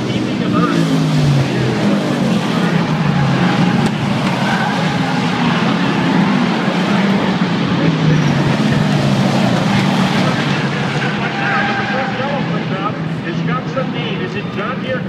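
Limited sportsman race cars roar around the Thompson Speedway oval in a steady, loud wash of engine noise, with an announcer talking over the field.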